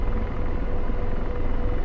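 Steady, loud rotor drone and engine rumble from an AH-64 Apache attack helicopter in the DCS World flight simulator, heard from inside the aircraft as a constant, unbroken hum with no voices.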